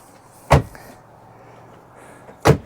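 The rear barn doors of a 2000 Ford Excursion XLT being shut: two loud, solid slams about two seconds apart, close by, with a quiet pause between them and no talk.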